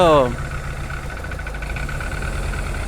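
A car engine idles roughly while warming up, a steady low rumble with faint uneven vibration, heard close under someone talking after a brief tonal sound at the start.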